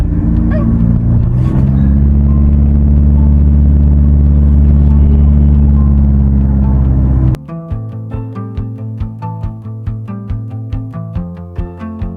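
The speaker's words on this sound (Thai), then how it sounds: "ก็ขับเรื่อยๆเหมือนเดิมครับผม ใช้เกียร์ต่ำ ผมใช้เกียร์3อยู่นะ" A car climbs a steep mountain road in third gear with a loud, steady engine drone, then a sharp change leaves a rhythmic pulsing mechanical sound over the remaining seconds.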